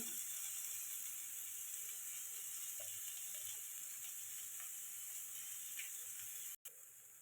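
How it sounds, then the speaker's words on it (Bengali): Ridge gourd peels fry in a pan with salt and turmeric, giving a steady, soft hiss and sizzle that runs the whole time without a break. Faint small crackles sit on top, and a brief dropout comes near the end. "এইভাবে ভালো করে ভেজে নেব"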